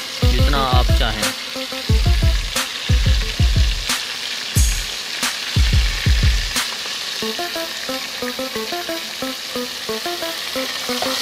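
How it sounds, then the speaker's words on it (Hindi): Chopped tomato hits a hot frying pan for a band gobi (cabbage) dish and sizzles loudly and steadily, close by, with a few clinks of a utensil and no talk. "अब हम इसमें टमाटर डालेंगे।"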